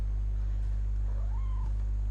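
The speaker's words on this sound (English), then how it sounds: "I heard a cat." A single faint cat meow in the video game What Remains of Edith Finch rises and falls briefly over a steady low background hum, with no talking.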